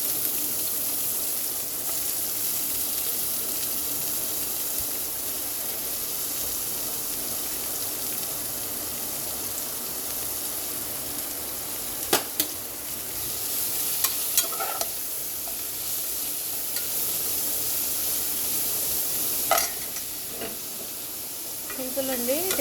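Onions, carrot and capsicum fry in hot oil for a spaghetti pasta dish, giving a steady sizzle and hiss with occasional utensil scrapes and clinks from stirring near the end.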